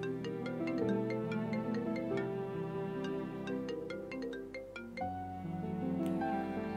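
A melodic phone ringtone plays continuously, a repeating electronic tune at moderate volume with no talking.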